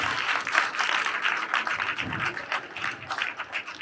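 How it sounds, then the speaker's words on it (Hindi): A crowd at a stage event claps continuously, a dense, steady wash of applause at moderate distance without pause. "एक बार ताली बनती है इनके लिए।"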